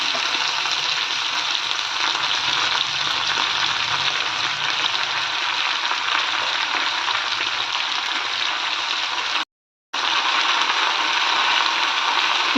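Tender gongura (sorrel) leaves fry in a hot pan, giving a steady, dense sizzle that holds evenly throughout, broken only by a brief silent gap near the end.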